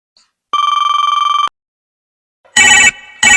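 A telephone rings loudly and close: one long electronic trill, a pause, then two more bursts of the ring, alone with no talk over it.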